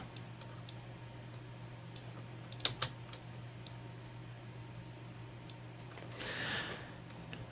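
Keystrokes tapped on a computer keyboard during Photoshop work, a few scattered clicks and a short burst, quiet and close over a steady hum with no talk.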